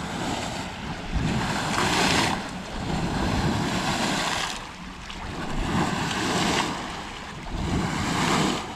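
Water churns and rushes out through a fish hatchery outlet below a lake, a steady loud roar with surging swells and gusty wind noise, no voices.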